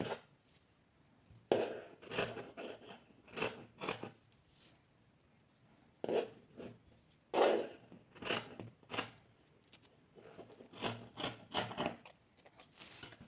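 Scissors cutting fabric pieces for a baby frock, with bursts of crisp snipping and rustling cloth separated by quiet pauses, close and fairly faint, no talking.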